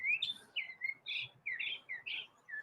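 Pet bird Chirpy gives a run of bright, repeated chirps and short warbling tweets, fairly close and clear, coming in quick bursts with small gaps and no talking.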